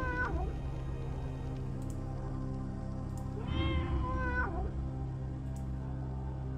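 A cat meows in the video game Tormentum: Dark Sorrow: one short meow at the start and a longer, rising-falling meow midway, both close and clear over a steady low ambient hum.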